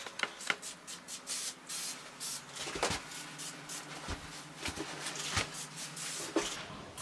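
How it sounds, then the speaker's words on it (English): Bursts of aerosol spray hiss in short repeated passes, close by, coating a raw anodized scooter head tube, with small handling noises between them and no speech. "spray the head tube first, because it's open,"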